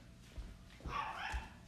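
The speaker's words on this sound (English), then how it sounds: "Sorry, I have to stop her barking." A dog barks a few times indoors, short yips spaced across the moment, fairly close and moderately loud, with no talk over it.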